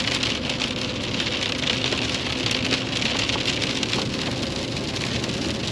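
Steady heavy rain drums on a surface outdoors on a farm, a loud continuous hiss with close patter and no breaks, no voices heard.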